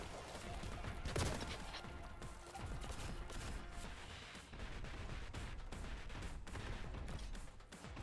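Rapid energy-weapon fire from a plasma rifle in Warhammer 40,000: Boltgun, a dense, continuous barrage of loud blasts with a sharp burst near the start, no voices.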